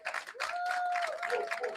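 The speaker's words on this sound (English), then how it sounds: "Can you guys give yourselves a big, gigantic round of applause?" A crowd at a live evening gathering claps loudly and cheers, with a sustained whistle running through the close, busy applause.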